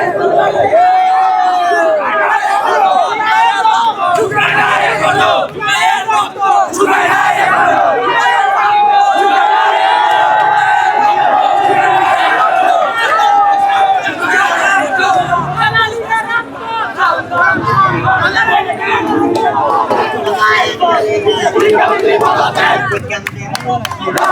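Student protesters outside the Dhaka Education Board chant slogans in unison, a loud, close crowd with rhythmic shouted calls and babble that continue throughout.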